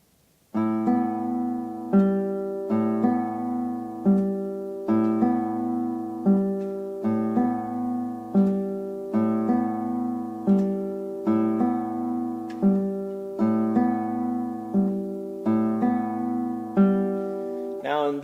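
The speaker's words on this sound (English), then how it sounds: "In step 4, we get the full arpeggio, but with a staggered rhythm, which will sound like this" Guitar fingerpicked full arpeggio using P, A, M, I fingers in a staggered short-long-long rhythm: clear plucked notes repeating in steady cycles, close and alone, with no talking.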